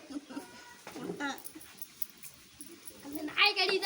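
A small dog whimpers and yips in faint, scattered squeaks under people talking, ending in a sharper, louder cluster of high yelps.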